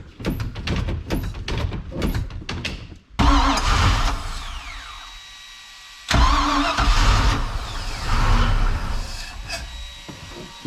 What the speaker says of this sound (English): let's see how good this thing does a cold start